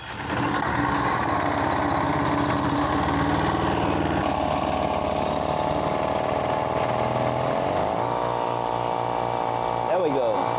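A Massey Ferguson 231 tractor engine runs steadily and loud throughout, with a rough, continuous mechanical drone that shifts to a slightly different pitch near the end.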